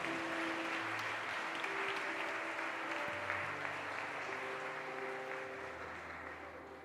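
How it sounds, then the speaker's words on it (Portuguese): Audience in a church service applauding, a sustained wash of clapping from many hands that holds steady and then slowly fades, with no talk over it. "Levanta, aplauda o Lucas, que ele não aguenta mais."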